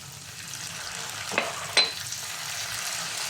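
Garlic, chili and oyster sauce fry in a pan for buttered tofu, giving a steady close sizzle broken by two short bursts of louder spitting as ingredients are added.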